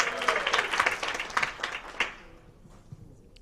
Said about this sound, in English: We're going to give a round of applause as Jordy B. Writing comes to the stage next.